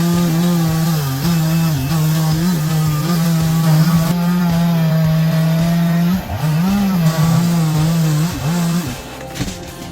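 A big chainsaw runs steadily while cutting a tree for stump removal, its engine droning loud and close with brief dips and rises in pitch as the load shifts.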